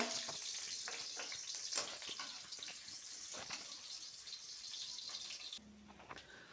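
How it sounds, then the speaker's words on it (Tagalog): Ginger sizzles in a hot pan for chicken ginger stew, a steady close frying hiss with small crackles throughout that shifts briefly near the end. "magigisa tayo ng luya"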